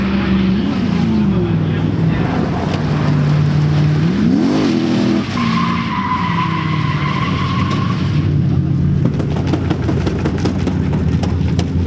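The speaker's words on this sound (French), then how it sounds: "Je finis quand même mon run et en fait j'explose mon pneu arrière droite." A drift car screeches with tyre squeal and a revving, wailing engine through a long slide at a French drift championship round, the rear right tyre giving out toward the end as the noise turns rough and crackly.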